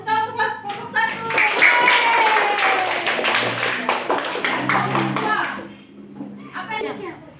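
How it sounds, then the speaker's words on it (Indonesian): A classroom group applauds, with a dense patter of clapping mixed with children's chatter and voices for several seconds before it fades into talk. "tepuk tangan untuk kelompok 1"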